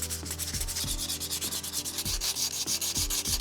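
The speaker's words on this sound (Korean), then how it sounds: "하기 전에 사포질 먼저 해줄 겁니다" Sandpaper rubs over a hardened handmade craft piece with lumpy, cracked spots, in steady rhythmic strokes roughly every half second, close and continuous, with no voices.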